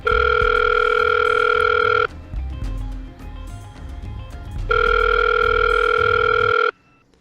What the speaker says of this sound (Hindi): पहले मैं इस लड़की को फोन